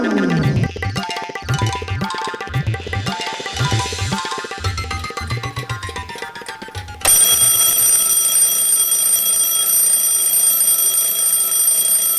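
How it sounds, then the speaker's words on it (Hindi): A cartoon alarm clock rings: a rhythmic series of springy boinging tones and a falling whistle, then a loud, continuous high-pitched bell clangs on without stopping. "बिल्कुल सही समय पर बजी है ये घड़ी। पर ये बजती ही क्यों जा रही है?"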